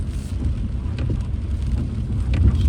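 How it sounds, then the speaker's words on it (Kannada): Heavy monsoon rain pours steadily near Jog Falls, a dense, close rushing hiss with low wind rumble buffeting the microphone throughout. "ಮಳೆ ಅಂತೂ ಸಿಕ್ಕಾಪಟ್ಟೆ ಬರ್ತಾನೆ ಇದೆ"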